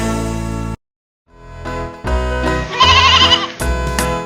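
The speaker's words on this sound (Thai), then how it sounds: "แมรี่มี ลูกแกะตัวน้อย ลูกแกะตัวน้อย" A lamb bleats in wavering, quivering cries within a children's Christmas song, with music around it and a brief silent gap between the bleats, loud and upfront.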